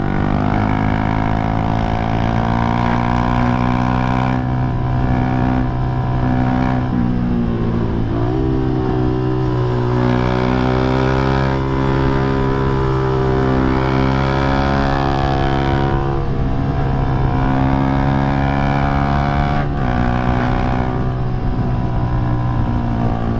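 Motorcycle engine fitted with a quickshifter, loud and close, droning steadily with rising and falling revs and brief dips at quick gear changes, with no talking over it.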